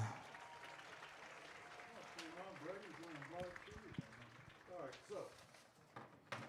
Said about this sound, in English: Maroon fans, a big round of applause for Elise Gillum.